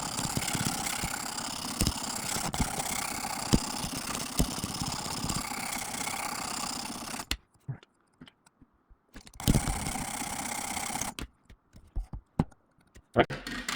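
A Work Sharp sharpener grinds the edge of a Hinderer knife on a 320 grit belt, a steady close motor whine with scraping, then cutting out and restarting in short bursts separated by near silence.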